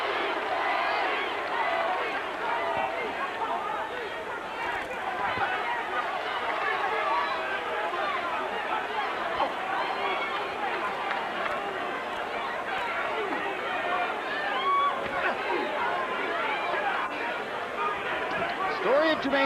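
Boxing arena crowd at a middleweight bout, thousands of fans chanting a fighter's name in a steady, dense roar that fills the whole stretch without a break.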